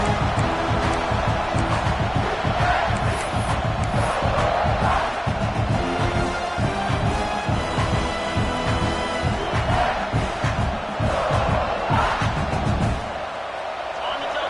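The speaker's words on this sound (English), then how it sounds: "this home crowd is fired up and ready to make a difference today" A home crowd at a Clemson versus South Carolina game roars loudly and continuously, with rhythmic chanting pulses in the noise and a sudden drop near the end.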